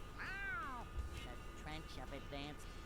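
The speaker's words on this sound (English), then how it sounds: "I love how SpongeBob is able to extract this many words from a meow" A cat in the video game SpongeBob SquarePants: Battle for Bikini Bottom Rehydrated gives a drawn-out meow, followed by talking in the background.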